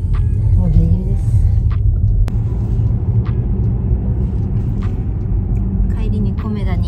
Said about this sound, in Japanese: 本日もまさこさんが運転してくれております